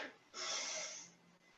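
A single deep breath is pushed out through the nose and mouth, soft and close, fading after about a second.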